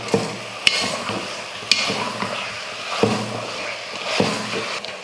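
A spoon stirs mutton with potato, salt and turmeric in a pan, giving four sharp scraping knocks at steady intervals over a soft background sizzle.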